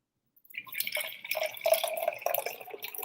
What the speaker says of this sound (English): Pour this in our cup.